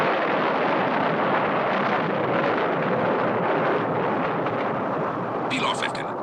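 Satellite rocket ignition and blast wave in an audio drama: a loud, continuous roaring rumble that fills the whole stretch without letup, with a brief brighter crackle near the end.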